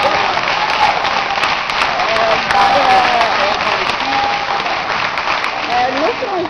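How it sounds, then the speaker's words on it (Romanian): Studio audience applause at a Romanian television talk show, steady and full for several seconds, with the host and guests talking over the clapping. "Aplauze, vă rog frumos!"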